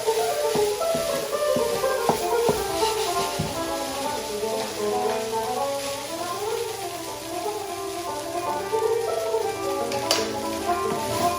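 Ingredients sizzle steadily in a hot pan over a burner on full heat, with occasional stirring clatter; a continuous close, moderately loud crackle with no talking.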